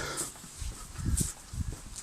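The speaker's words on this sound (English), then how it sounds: "We don't get interrupted by that dog." A dog barks faintly in the distance, a few muffled low bursts spaced about half a second apart over a quiet background hum.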